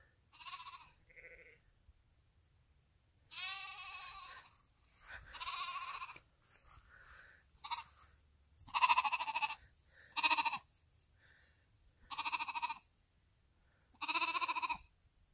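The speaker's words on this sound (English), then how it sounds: "these sheep, watch them." Sheep bleat in a series of loud, wavering calls from fairly close by, separated by quiet gaps, with one or two fainter, more distant bleats in between.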